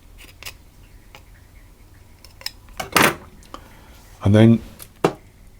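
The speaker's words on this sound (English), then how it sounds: "with a very sharp knife you cut down" A very sharp knife cuts down through speculaas spice cookie dough with a few short, crisp cutting sounds, spaced apart. Brief talking comes in between the cuts.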